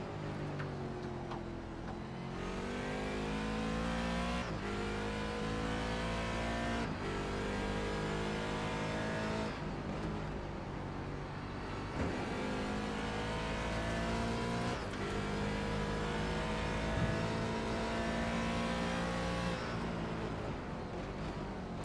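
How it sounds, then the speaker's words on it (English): Mazda race cars circling Zolder circuit during a 23-hour endurance race, repeated loud engine passes with high revving notes and gear changes, one car after another, rising and fading every few seconds. "As I hear the sweet sound of Mazda bees going by."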